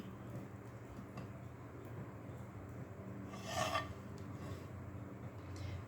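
A knife cuts the crusts off bread slices with faint, quiet rasping strokes and one brief louder scrape in the middle.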